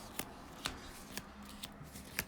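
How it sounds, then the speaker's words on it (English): A deck of game cards shuffled by hand for the Enemy Action: Ardennes board game, quiet riffling with a handful of sharp flicks spaced about half a second apart, close and alone. "I'll shuffle this up and we'll get the 6 cards"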